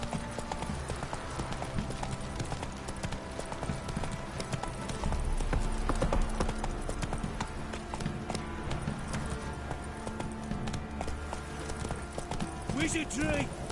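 Horse hooves gallop in a steady clip-clop rhythm throughout, ridden in The Witcher 3, with music and a voice spurring the mount on over the top.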